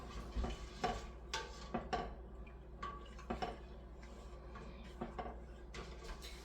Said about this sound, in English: And then we are going to stir constantly, as constantly as you can.